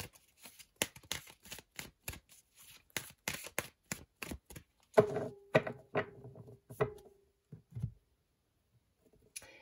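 Oracle cards are shuffled in a rapid run of crisp, papery riffles and taps, then a few louder slaps and soft shuffles before trailing into near silence.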